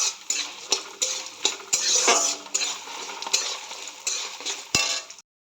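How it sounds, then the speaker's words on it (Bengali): Bori lentil dumplings frying in oil, heard as a soft sizzle broken by repeated clinks and scrapes of a utensil against the pan, close and fairly loud, no talking. "বড়িটা একটু সুন্দর করে ভেজে নেব।"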